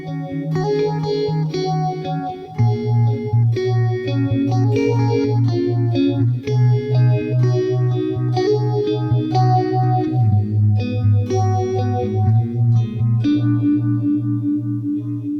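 Electric guitar playing a song part, a repeating picked chord pattern with a steady low bass note, effects-laden chorus tone with light distortion and echo, played loud and alone.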